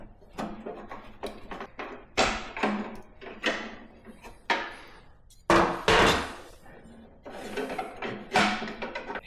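Metal battery hold-down brackets being worked loose on a Yard Machines 638 RL mower: a run of sharp clanks and knocks, irregular and close, some ringing louder than others, with no voices.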